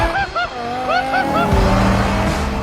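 A loud BMW M5 V10 engine, revving to 8,200 RPM, revs up and down in sharp rising and falling pitches, then settles into a deep roar, close by and dominating.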